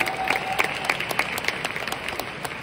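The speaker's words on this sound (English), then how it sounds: "Can we give Freeway a round of applause today?" An audience claps for Freeway International at a corporate training seminar, a steady crowd applause with scattered sharp hand claps running throughout, moderately loud and without talk.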